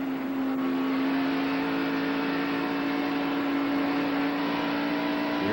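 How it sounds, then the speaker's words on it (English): Keith Allman's NASCAR stock car engine in the 1991 Budweiser 500, a steady high droning whine holding at full revs down the backstretch, loud and sustained with no talk. "You hear that Keith Allman engine coming up to full song as he goes down the backstretch"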